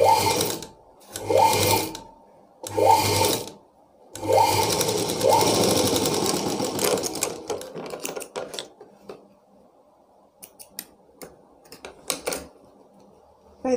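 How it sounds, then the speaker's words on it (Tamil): Short, loud bursts from a sewing machine stitching blouse cloth, three quick runs followed by a longer stretch of stitching, then quieter scattered mechanical clicks and handling sounds. "இதே போலவே இதெல்லாம் மேல் பக்கம் வச்சு தையல் போட்டுக்கிறேன்."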